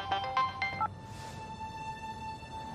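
A phone ringtone plays a short burst of bright electronic tones for an incoming call, then gives way to a steady high tone over a quiet background, with no voices.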